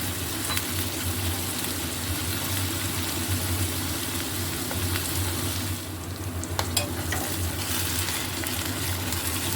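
Winter vegetables fry in oil with ground whole garam masala, giving a steady, close sizzle with occasional stirring scrapes throughout.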